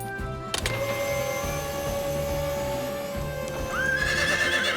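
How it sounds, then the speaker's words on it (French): Animated cartoon scene with a steady mechanical rescue winch whirring under a horse's neighs and hoof clip-clops, the whine rising in pitch toward the end. "C'est le bruit qui fait peur au cheval. Arrête le treuil!"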